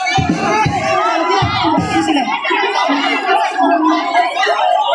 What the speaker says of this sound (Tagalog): Isang hiyawan